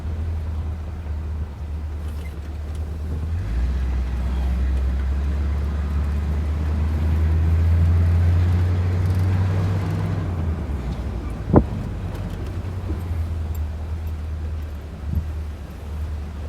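A 1965 Pontiac Bonneville V8 with a newly fitted Edelbrock carburetor idles steadily, a low, even rumble that swells slightly midway before settling, with one sharp click and no talk over it.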